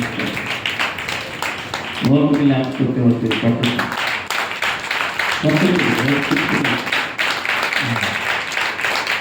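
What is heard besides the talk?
congregation clapping hands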